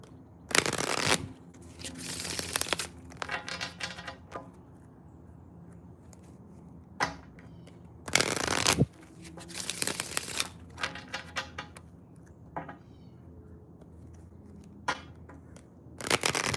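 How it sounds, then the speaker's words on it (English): Hands shuffling a Sense of Self oracle card deck, with repeated bursts of riffling and crisp card slaps separated by short pauses, close and clear. "I'm going to go ahead and pull from the Sense of Self Oracle deck while I get those situated."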